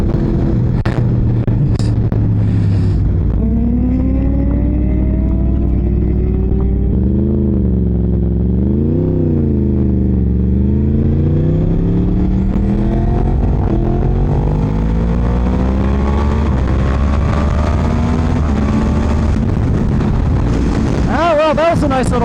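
Tuned superbikes, a Yamaha R1, BMW S1000RR and Suzuki GSX-R1000, accelerate hard past the rider, engines screaming and sweeping up and down in pitch under heavy wind roar; a rider talks briefly near the end.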